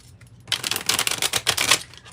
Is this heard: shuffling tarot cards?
yes